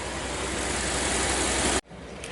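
A steady, loud engine roar from a van driven around a neighborhood to clear a check engine light, with a broad continuous rumble that cuts off suddenly near the end.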